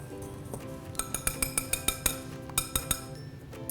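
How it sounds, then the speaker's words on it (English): Whisk rapidly clinking against a bowl while mixing salt and baking soda for tea cake batter, a quick run of about a dozen sharp metallic taps, close and otherwise quiet. "I'm just gonna do a quick whisk of everything,"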